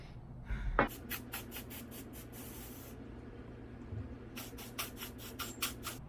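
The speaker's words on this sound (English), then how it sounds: "I'm just gonna spray my shoe" Short, close bursts of aerosol spray hiss in a rapid series as solar dust spray is applied to a shoe, after a brief pause.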